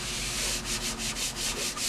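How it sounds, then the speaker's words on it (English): Rhythmic strokes of sandpaper rasp against thick poly primer on a car body, a quick back-and-forth scratching repeated about eight times, close and steady. "I'm sanding off your inch thick poly primer"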